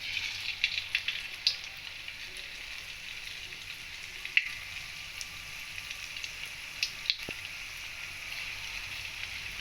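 Spoonfuls of capsicum pakoda batter dropped into hot oil, a thin steady frying hiss with scattered small crackles and pops, quiet and unaccompanied by talk.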